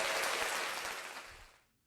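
Studio applause from a small crowd at a local TV news taping, a dense wash of clapping that holds steady and then fades out near the end.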